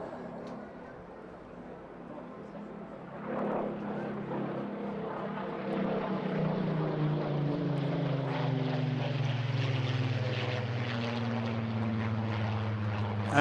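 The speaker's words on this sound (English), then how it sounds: "you'll notice a slightly different growl from that particular engine, because this is a Griffon engined Spitfire" A Griffon-engined Spitfire at an airshow passes by, its deep propeller engine growl swelling from moderate to loud and holding steady with a slight pitch shift as it flies past.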